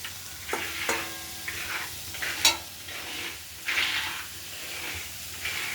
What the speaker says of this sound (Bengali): তার জন্য আলু ভাজে রাখছি